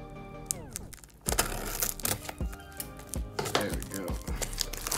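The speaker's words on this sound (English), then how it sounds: "Grab these scissors real quick," Scissors snip open a trading card box, giving a burst of sharp cuts and crinkly clicks, close and fairly loud, that follows a brief quiet moment with a faint voice.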